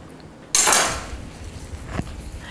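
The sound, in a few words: setting naan dough rounds in a pan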